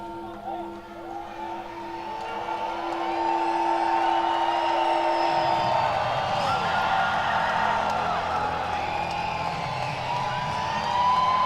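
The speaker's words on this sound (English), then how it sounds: "Well, this huge crowd making a lot of noise here, hoping for a strikeout." A large baseball crowd at an Arkansas vs Tulsa game cheers and roars in a steady, swelling wash of noise that builds and holds, with a commentator talking over it.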